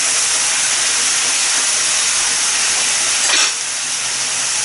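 Butter sizzling in a hot pan while cooking an Aberdeen Angus pepper steak: a steady, loud broadband hiss that holds throughout, with a brief swell near the end.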